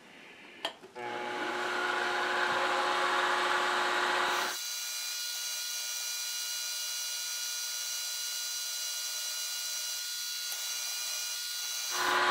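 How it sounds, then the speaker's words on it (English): A power drill whines steadily as a tapping drill bores a pilot hole through two parts, starting after a brief clunk, its tone shifting midway and stopping near the end. "Just putting a tapping drill down through both of these."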